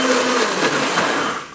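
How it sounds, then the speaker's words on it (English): A blender whirs steadily as it purees cooked pumpkin in a kitchen, a loud continuous motor drone with no talk, easing off slightly at the end. "Now I will blitz that a little bit more because I'll have to push it down"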